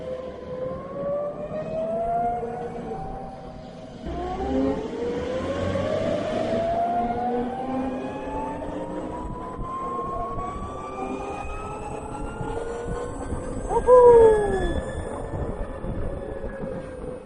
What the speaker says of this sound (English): the whining sound is quite audible outside as well